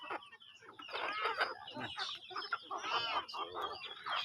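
Several chickens cluck and squawk close by in a busy, overlapping chorus, with a brief spoken word partway through.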